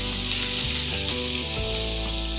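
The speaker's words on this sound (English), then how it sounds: "Okay, the oil is hot. Now I'm adding the onions." Four large onions fry in hot oil, a loud, dense, steady sizzle heard up close and without pause, with a faint low hum underneath.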